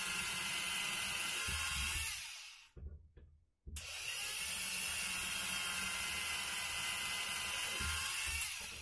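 Loud, steady whine of a power drill drilling into a computer case, cutting out briefly midway before starting up again and droning on.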